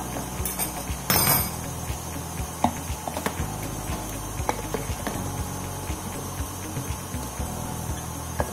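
Cashew nuts coarsely chopped with a knife on a board for a garlic cashew sambal, giving irregular close knocks and clinks with a dense burst of chopping early on, no talking.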